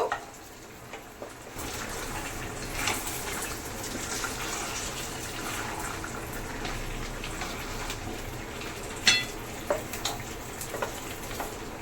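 Cashew nuts frying in hot oil in a home kitchen, a steady, close sizzle with soft bubbling and occasional stirring clinks, no talking.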